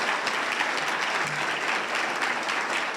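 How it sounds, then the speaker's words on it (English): A large audience gives a sustained round of applause for high school scholarship winners, dense even clapping throughout at a steady level. "Could we have one more round of applause for all of our scholarship winners?"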